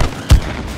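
A single punchy gunshot-like burst from cartoon combat in the co-op video game It Takes Two, one sharp loud hit over a low background of game noise.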